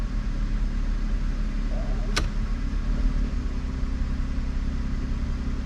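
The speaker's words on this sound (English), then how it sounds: "Pulls it down to about 650 maybe, but the car doesn't shudder, anything like that, doesn't want to stall." A classic Ford Mustang engine idles in gear with a low, steady rumble and no shudder, holding a constant drone throughout with one brief click partway through.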